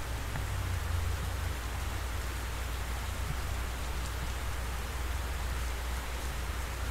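Steady rain hisses in DCS Huey, an even, unbroken wash of falling drops over a low rumble, loud and constant with no voices.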